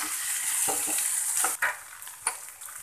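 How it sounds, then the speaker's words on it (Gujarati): Sweet corn stirred in a hot pan for a Gujarati corn chaat, a steady close sizzle broken by several scraping stirs and light clinks of the spoon, with no talking. "મકાઈ નાખી દઈએ. તેને બરાબર મિક્સ કરી દેવાનું."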